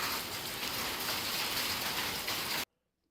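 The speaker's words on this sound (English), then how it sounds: "Heavy rain and/or hail." Heavy rain and hail pound steadily and loudly as a dense, close hiss for over two seconds, then cut off abruptly into silence.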